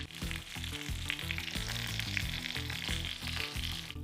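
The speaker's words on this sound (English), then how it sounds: "Listen to the sizzling." Pork cuts fry in oil in a frying pan with a steady, close sizzle, while music plays underneath.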